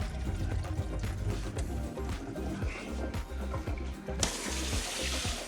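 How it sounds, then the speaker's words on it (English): Water runs and drains from a newly installed farmhouse sink in a barndominium kitchen, a steady close gurgling rush that continues throughout, with faint clatter behind it. "I just hear water draining."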